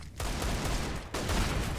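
Rapid Desert Eagle pistol shots in a Counter-Strike match, a dense, loud stream of gunfire with a brief gap partway through.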